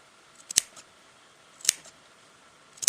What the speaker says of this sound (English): And cut it just up to your seam.